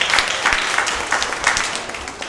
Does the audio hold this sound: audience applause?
yes